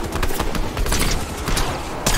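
Rapid gunfire in a Fortnite match, dense overlapping bursts of shots running loud and continuous for a couple of seconds.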